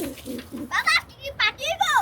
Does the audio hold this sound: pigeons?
yes